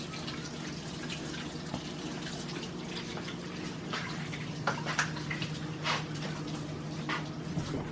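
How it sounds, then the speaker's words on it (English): Water runs from a kitchen tap during handwashing, a faint, steady splashing stream with occasional drips and clinks. "I'm gonna wash my hand."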